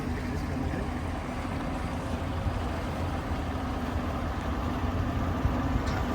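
A boat engine running steadily as the boat comes in, a low, even rumbling drone heard from a distance, constant across the whole stretch with no talking.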